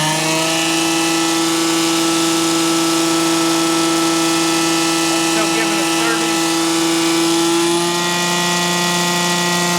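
A 1989 Dodge Ram with a 5.9L Cummins diesel and an upgraded Bosch VE injection pump is held at about 3,300 RPM, giving a loud, steady, droning whine. A voice speaks briefly over it.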